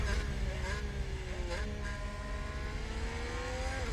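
Several high-pitched Formula 1 engines in the game F1 Manager 22 at Bahrain whine and shift through gears, rising and falling steadily with a low rumble underneath, loud and continuous with no pauses.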